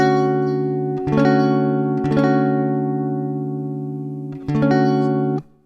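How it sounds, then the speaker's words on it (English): Guitar chord strummed from the fifth to the second string, several sustained bright strums with clear ringing harmonics, each decaying slowly before the next, played close and alone. "you're going to strum from the 5th string to the 2nd string"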